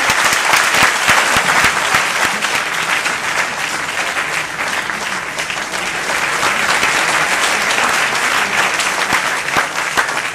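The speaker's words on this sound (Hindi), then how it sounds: "तालियां।" Vigorous, sustained applause from a theatre audience at a stage event in Patna, a dense wash of many hands clapping at close range without a break.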